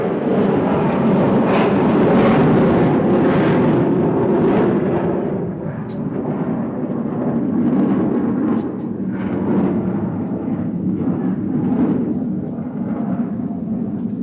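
Jet aircraft engine roar at the Sun 'n Fun airshow, a loud, broad rumbling wash that swells and fades as the plane passes, alone without talk for the whole stretch.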